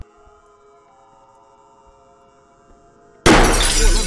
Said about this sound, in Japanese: 何これ、手持ちの懐中電灯割れた？